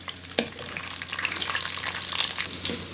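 Raisins and almonds being stirred into sweet rice in a pot, soft scraping and clinking of a spoon over a faint sizzle, close and quiet.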